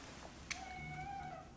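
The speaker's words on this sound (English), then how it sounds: "This kitty's excited about that, apparently." A cat meows in a drawn-out, rising and falling call indoors in a home kitchen during a cooking lesson, with a faint click just before, heard alone at moderate distance.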